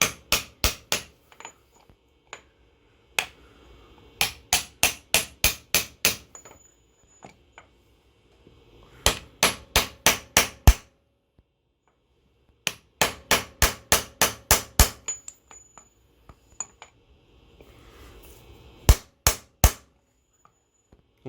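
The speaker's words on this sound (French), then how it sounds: "on tape au marteau jusqu'à ce que le joint rentre en butée" Hammer blows on a 41 mm socket drive a gearbox output seal into its bore: sharp metallic strikes in quick bursts of five to eight, separated by short pauses, close and loud with no talking.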